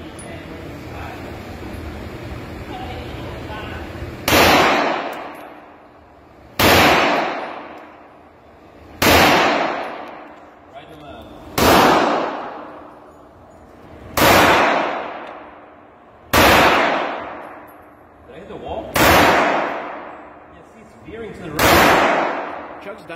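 Gunfire at an outdoor shooting range: eight loud, sharp single shots spaced roughly two and a half seconds apart, each followed by a decaying echo, with quiet background noise between them.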